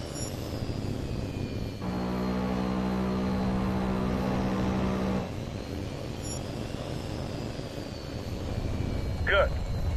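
A jet fighter in the H.A.W.X flight game drones steadily throughout, with a loud sustained buzzing burst of aircraft cannon fire lasting about three seconds partway through.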